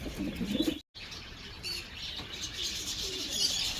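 Pigeons arrive with a soft, brief flutter of flapping wings, followed by faint rustling and light chirps. The sounds are heard at a distance and fairly quietly.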